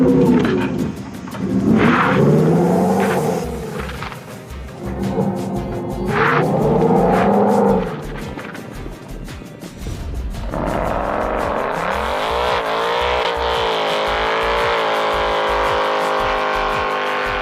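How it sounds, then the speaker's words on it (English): A Dodge Charger Daytona Scat Pack tries a burnout with loud, swelling revving whooshes that rise and fall in pulses, then settle into a sustained droning whine; no one speaks. "Charger really can't do a burnout"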